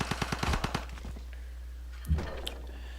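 Unit attack in Civilization V, a rapid burst of close gunfire cracks in a tight rhythm, then quiet and one more short thump of impact.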